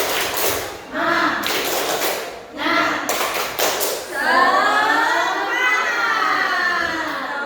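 Seated participants at a school guidance-counselling workshop in Indonesia perform a rhythmic group spirit clap in short bursts of quick taps, then break into loud shouting and cheering voices that carry to the end.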